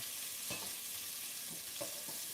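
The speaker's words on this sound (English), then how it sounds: "I'm going to saute the onions in the olive oil" Onions sauté in olive oil in a pan, a constant soft crackling sizzle with a few small pops and stirring scrapes, fairly quiet and steady throughout with no voices.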